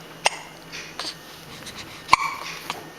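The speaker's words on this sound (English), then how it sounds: "You got the hiccups?" A baby hiccups in a few sharp, isolated bursts spread over three seconds, close and fairly faint against a quiet background with soft breathing.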